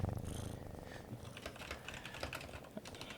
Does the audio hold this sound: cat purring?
yes